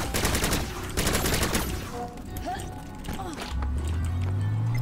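Rapid gunfire from a gun in the video game Bombshell, a dense burst of shots up close that fades into lower rumbling game effects, with a voice talking over it.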